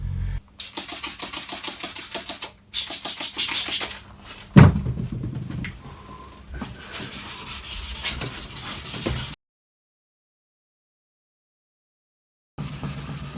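A Lexus GS430 headlight lens being hand-sanded with fine 800 to 1000 grit paper: bursts of close, gritty rubbing strokes with brief pauses, then a long silence before the rubbing resumes.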